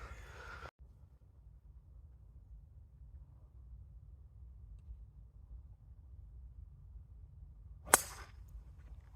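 A single sharp, crisp strike of a golf club hitting a golf ball outdoors, brief and fairly close against quiet background hiss.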